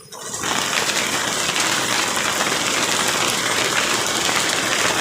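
Unseasonal rain on a goat farm starts abruptly and becomes a dense, loud, steady downpour hissing and pattering on surfaces, with no talking.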